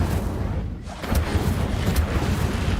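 A fiery Incendio spell blast from Hogwarts Legacy erupts as a loud, rumbling, boomy burst. The roar runs continuously through the moment with dense low-end energy and a few sharper flares.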